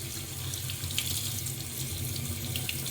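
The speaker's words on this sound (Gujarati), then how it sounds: "આપણા પૌવા છે, આપણે પાણીથી એકદમ વોશ કરી નાખશું" Running tap water pours steadily into a sink while flattened rice (poha) is rinsed, close and continuous, with no talking.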